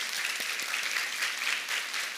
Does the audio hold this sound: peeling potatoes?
no